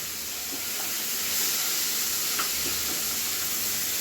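A soft, steady hiss of cashew nuts frying in a pan, with a few faint stirring clicks and no voices.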